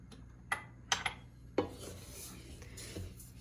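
A spoon works ground fenugreek, cumin, black pepper and salt together in a bowl at home, with a few sharp clinks against the dish followed by soft gritty scraping and stirring, close and quiet with no voices.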